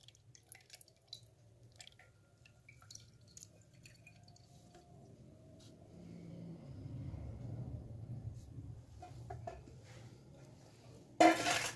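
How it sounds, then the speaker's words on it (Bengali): Lemon juice is strained through a small tea strainer: soft, faint drips and trickles patter quietly, and a brief louder clatter closes the sequence. "আমি এবার এই চা ছাগনির সাহায্যে রসটিকে ভালো করে ছেঁকে নেবো"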